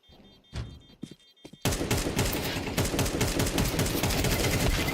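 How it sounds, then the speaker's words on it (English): AK rifle gunfire at the B site during a professional Counter-Strike 2 match. A few quiet thuds give way to a sudden, loud, sustained burst of automatic fire that continues to the end. "Grabs an AK to defend himself."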